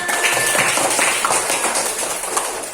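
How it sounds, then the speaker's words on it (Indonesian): Schoolchildren in an Indonesian primary classroom clap their hands together, a dense, steady patter of many small palms filling the room at close range and holding fairly even throughout. "Kita tepuk tangan anak-anak"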